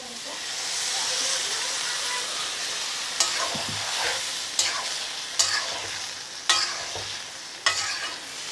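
A little water goes into a pan of fried dhoka lentil cakes and potatoes, setting off a loud steamy hiss that slowly settles while a spoon strikes and scrapes the pan about five times, close by.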